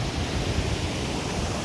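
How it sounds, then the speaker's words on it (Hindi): Water rushes downhill beside a flyover near a hill temple in Haripurdhar, a dense, even roar running without break for under two seconds, with no talk. "फिर पानी यहाँ से नीचे की तरफ निकल जाता है।"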